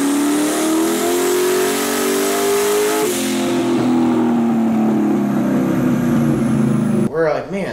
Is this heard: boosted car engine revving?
yes